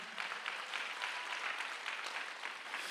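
A church congregation at a Sunday worship service claps together in a steady, rhythmic burst, the overlapping hand claps sounding close and even for a few seconds with no voices over them.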